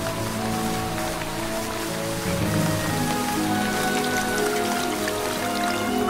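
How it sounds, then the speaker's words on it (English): Heavy jungle rain pours down steadily, a dense hiss of drops drumming on surfaces all around, continuous and fairly loud. "The rain is becoming heavier."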